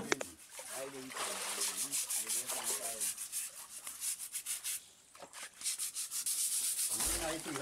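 The inner walls of a village well are scrubbed by hand in rhythmic, rasping strokes, repeated in quick bursts with short pauses, while voices can be heard at moments.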